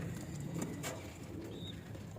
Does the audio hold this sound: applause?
no